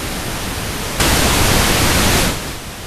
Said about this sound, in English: the impulse of the left-right bus against pink noise